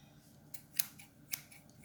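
A pair of scissors from a Conair Coupe Turbo 24-piece haircut kit snaps shut twice, each a crisp, close metallic click over faint room hiss, with no talking.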